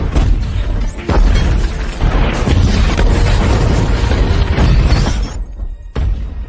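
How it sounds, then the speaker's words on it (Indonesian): A cannon bombardment from a film sounds as loud, continuous booming explosions with shattering debris and rumbling blasts. A sharp impact lands near the start, the din runs for several seconds, and a final burst follows a brief lull. "memborbardir tempat tersebut dengan meriam, hingga Evelyn terkena ledakan"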